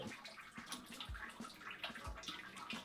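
Wort draining out of the mash for an oatmeal stout, a continuous watery splashing and trickling that carries on steadily at moderate level, with no talking over it.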